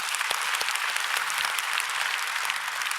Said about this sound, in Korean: 박수 좀 한번 쳐주고 싶어요.